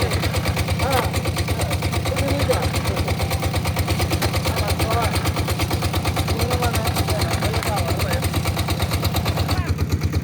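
A brick-making machine runs steadily at a brick kiln, a loud rapid mechanical pulsing and clatter that continues without pause throughout, with faint voices underneath.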